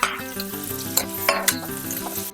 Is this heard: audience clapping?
no